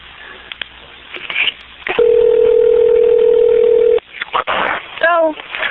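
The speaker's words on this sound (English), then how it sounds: "a phone call to Bonnie Garcia, returning her phone call." A telephone line carries a steady, unbroken dial tone for about two seconds during an outgoing phone call. Muffled clicks and handling noises come before it, and short stepped tones follow.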